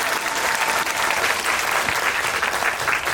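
An audience claps at a Korean film event with the director and cast on stage, a dense, loud, sustained wash of applause with no gaps.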